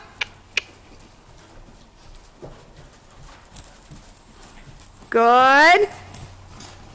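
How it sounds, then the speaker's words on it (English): A horse trots in a riding session, its hooves giving a soft, steady clip-clop beneath an instructor's spoken coaching, with a couple of sharper knocks early on and a brief squeaky noise near the end. "Now just keep your trot."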